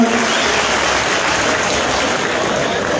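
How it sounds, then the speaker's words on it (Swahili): Sustained clapping from a sizable crowd, loud and even from start to finish with no pauses. "Pigia gavana wetu makofi mazuri tena."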